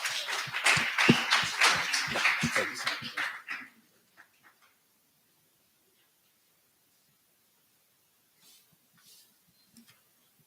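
Audience applause at a National Archives Awareness Week talk, a loud burst of many hands clapping for about three and a half seconds, then fading to near silence with a few faint stray sounds.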